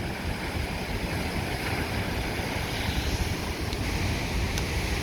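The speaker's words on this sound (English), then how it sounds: "Like the water coming off the rocks," Steady broadband rush of water washing over volcanic rocks on Maui, a continuous surging roar with no voices.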